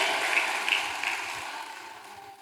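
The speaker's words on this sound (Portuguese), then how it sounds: "Aplaude o Senhor. Mais forte" Church congregation applauding during a Baptist communion service, a dense broadband wash of clapping with a few audible cheers that fades gradually near the end.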